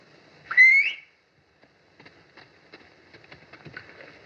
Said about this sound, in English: If you whistle, he'll come to you.